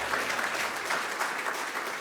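An audience at a Dodd-Frank fifth anniversary event applauds, a dense, even patter of many hands clapping at moderate volume for the full two seconds, without any voice over it.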